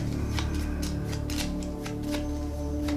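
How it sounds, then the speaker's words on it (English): Cards being shuffled for the Dark Souls board game, a series of quick riffling bursts over a steady background hum, close and without speech. "So, shuffle these."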